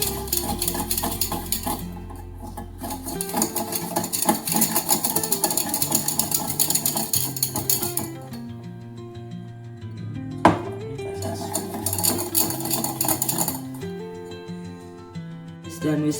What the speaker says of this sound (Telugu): మళ్ళీ లాక్ చేసుకొని మొత్తం విసిక్ చేయడం స్టార్ట్ చేయాలి.